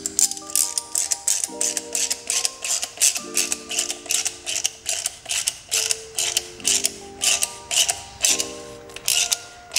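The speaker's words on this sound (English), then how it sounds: "you're going to want to tighten that with an 11 millimeter socket" Ratchet with an 11 mm socket tightening the end cap on a turbo boost leak tester, repeated clicking strokes in a steady rhythm, close and clear.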